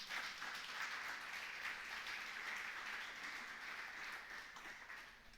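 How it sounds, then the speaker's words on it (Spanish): A church congregation applauds during a Spanish-language sermon, a sustained, even wash of many hands clapping at moderate distance, fairly faint overall and tapering slightly at the close. "Pero un aplauso a Cristo entonces."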